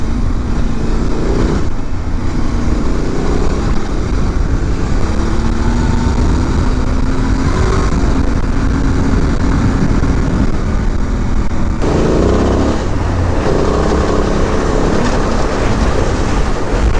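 A Honda Transalp 750 motorcycle rides across a rough field, giving a steady, loud roar of engine and wind noise that stays dense and unbroken throughout, with no talking.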